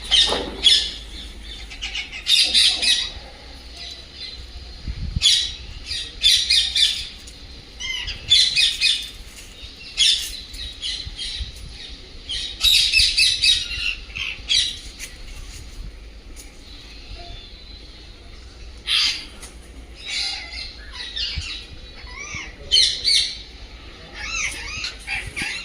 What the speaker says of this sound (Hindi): पक्षियों का कलरव सुनने को मिल रहा है।